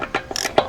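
A torque wrench set to 83 foot-pounds gives several short mechanical clicks at close range, sharp ratchet-like snaps spaced irregularly across under a second, with no talking.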